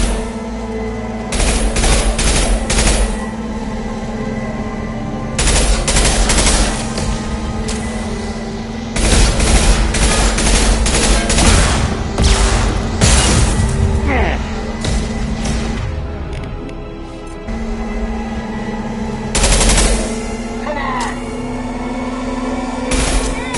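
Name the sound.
gunfire with incendiary ammo in video game Mass Effect Legendary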